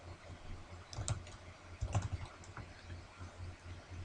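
Quiet typing on a computer keyboard, with a few soft scattered key clicks and two small clustered bursts over a low background hum.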